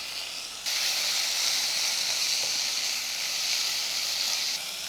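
Rice and prawns are stir fried in a pan, a steady loud sizzle that jumps in suddenly and hisses evenly for several seconds before easing.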